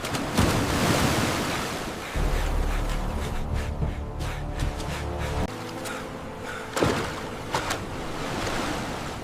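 Ocean surf churns and crashes with rolling roar, loud and close, surging in bursts with wind noise buffeting across the shoreline.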